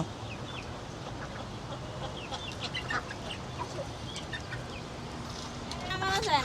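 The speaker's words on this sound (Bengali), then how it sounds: "তো হাঁস হচ্ছে রায়ানের পিছে দৌড়াচ্ছে খাবারের জন্য" Ducks quack and chatter softly in a scattered, busy group chasing someone for food, a few sharper calls rising near the end over quiet outdoor background.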